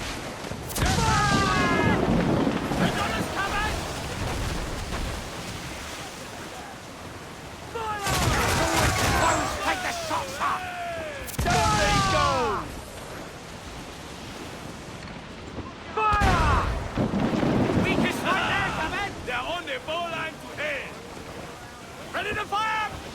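Ship cannons fire in a naval battle in Assassin's Creed Black Flag: several loud booming volleys with rumbling tails, set against ocean surf, while crew members shout orders throughout.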